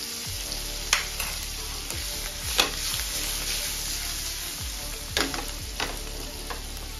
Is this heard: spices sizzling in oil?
yes